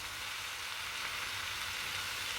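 Vegetables for a simple vegetable soup cook in a pan, giving a soft, even, continuous sizzle that is faint and steady, with no talking.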